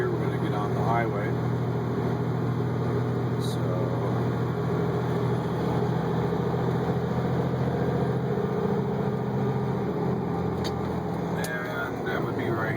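Big rig truck engine droning steadily from inside the cab, a low continuous rumble with the throttle eased back while preparing a gear shift, loud and constant throughout.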